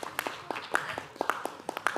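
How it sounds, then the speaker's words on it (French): Scattered, uneven hand claps at a doctoral graduation ceremony, a handful of distinct sharp claps spaced irregularly rather than a full crowd ovation, fairly faint with some background noise. "Applaudissez vos familles,"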